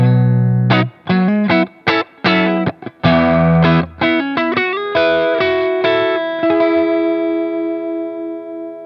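Electric guitar run through the Klon side of a Beetronics Wannabee overdrive pedal, chopping out crisp overdriven chords and notes in a rhythmic phrase with short pauses, before settling into sustained ringing chords that gradually decay.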